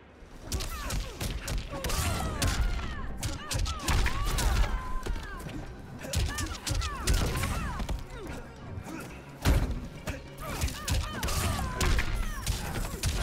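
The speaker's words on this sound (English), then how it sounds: "Oh my god, fireworks, this is awesome." Fireworks burst in the Mortal Kombat fighting game during a ranked match, a dense run of bangs, thuds and crackles packed over busy game music and effects for the whole stretch.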